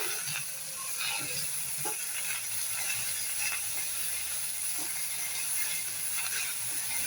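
Curry leaves and coriander sautéing in a pan for mint chutney give a steady, close hiss of sizzling that runs unbroken throughout, with faint clicks and no talk.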